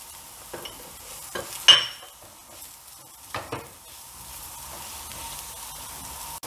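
A spoon stirring chicken masala and spices as they fry in a pan, with quiet scrapes and a few sharper clinks over a low steady sizzle, no talk.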